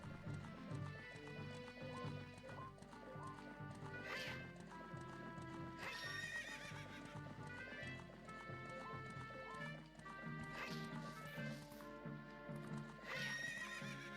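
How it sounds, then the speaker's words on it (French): A horse's hooves clip-clop at a gallop while it neighs loudly several times, layered over a steady musical backdrop with a synthetic game-like sound, from The Legend of Zelda: Ocarina of Time 3DS. "ça fait tellement du bien d'avoir un cheval"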